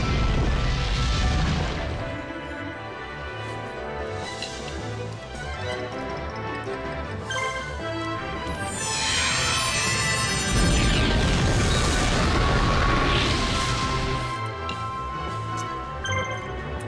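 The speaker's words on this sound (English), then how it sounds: "Zombie breath breathes fire." Zombie Breath's fire attack in the Yu-Gi-Oh! The Falsebound Kingdom video game: booming, crashing blasts with rising swept tones, layered over loud game music.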